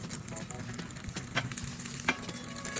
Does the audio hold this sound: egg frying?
yes